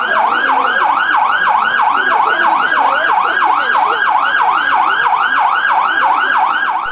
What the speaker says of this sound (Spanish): La comunidad curiteña se vio sorprendida por el sonido de las sirenas